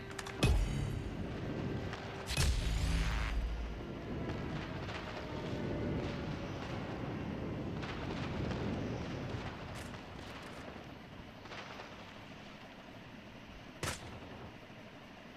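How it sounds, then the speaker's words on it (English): Airstrike explosions in a team deathmatch shooter game: two sharp blasts open, the second swelling into a deep rolling boom, followed by a long, steady rumble of distant fire with scattered cracks. "Friendly airstrike incoming."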